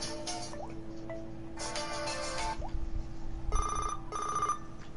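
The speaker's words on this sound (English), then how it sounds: "I'll find a better ringtone than Alan's." Electronic phone ringtone in The Walking Dead video game plays in short bursts, a few separate chiming tones with gaps between, over a faint steady hum.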